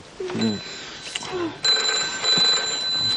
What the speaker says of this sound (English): Where's the telephone? So let it ring.